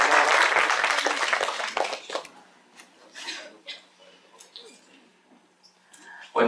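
Audience applause welcoming a guest speaker at a tax seminar in Cajamarca, a dense burst of clapping that fades out after about two seconds, leaving scattered claps and room noise.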